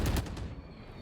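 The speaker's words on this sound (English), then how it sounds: "Seeing some gunfire as George Fox goes through tree." Gunfire in Valorant during a collegiate esports finals match, a quick cluster of sharp shots at the start fading into a short decaying tail.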